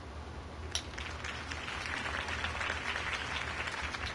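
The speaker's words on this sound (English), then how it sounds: "could have heard that applause" A crowd applauds after a campaign speech for Harvey Dent in a Batman game, a sustained wash of clapping at moderate distance that starts with a sharp clap and keeps steady, without speech.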